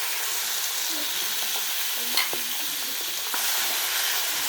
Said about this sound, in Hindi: तवा गरम हो गया और अब इसमें शामिल करेंगे कलेजी क्योंकि मसाला लगा के रखी हुई है।